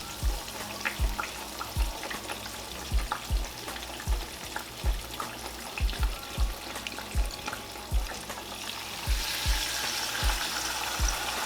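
Pork chops sizzle in a frying pan, a steady crackling hiss broken by repeated sharp clinks and scrapes of a utensil against the pan, up close with no talking.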